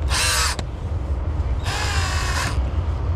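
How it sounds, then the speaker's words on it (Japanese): A Star-M double-groove 25 mm earth auger (31B-250) bores fertilizer holes into garden soil around eggplant and shishito pepper plants, giving two loud whirring, grinding bursts separated by a short pause, with no talk. "アースドリル、ね、これで、はい、このね、周りに穴を掘っていきます。"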